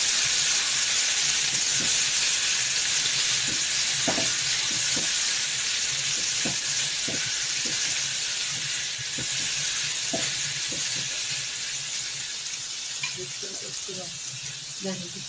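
Onions and tomatoes sauté in a hot pan with a loud, continuous sizzling hiss broken by scattered pops and crackles throughout.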